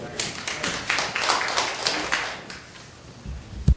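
Audience clapping during a theology lecture, a brief burst of scattered hand claps that tapers off, followed by a sharp knock or bump near the end.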